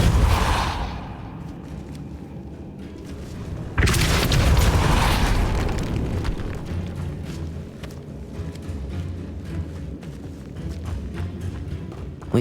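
A Depulso spell blast in Hogwarts Legacy, a deep booming burst that swells suddenly and then fades into a rumbling, echoing ambience, following an earlier softer whoosh.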